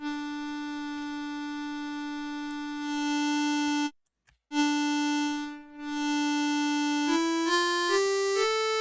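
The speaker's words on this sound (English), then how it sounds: "You take that reed out of the accordion, you just like blow on it. It sounds like this." A single steady reedy tone, bright and buzzy, held for several seconds with two brief breaks, then stepping upward in pitch near the end.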